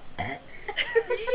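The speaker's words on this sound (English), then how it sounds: "there's a true belcher right there" A cat lets out a short, loud belch lasting about a second, with a gravelly, throaty onset and no voices over it.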